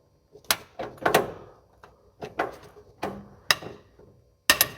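Sharp metallic knocks from a wrench working the rocker arm nuts on a 1958 Oldsmobile 88 engine, about ten separate close raps in an uneven rhythm with short pauses between them.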